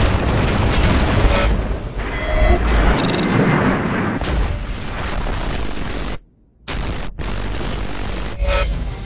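Explosions from the video game Battlefield 3 boom in dense, continuous waves, loud and rumbling with scattered pops and crackles, briefly cutting to silence before the blasts resume.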